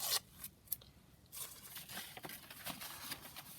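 A page of sheet music torn by hand, heard as quiet, close crackling and ripping paper in several short rustling bursts.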